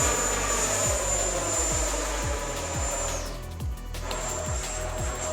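An FMS Avanti 90mm radio-controlled sport jet flies nearby with a loud, steady electric ducted-fan whine. The pitch holds, dips briefly as the throttle drops, then returns, over a layered engine drone.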